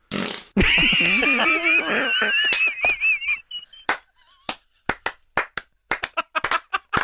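A long, loud, wobbling fart sound effect blares for a few seconds, followed by a rapid burst of clapping.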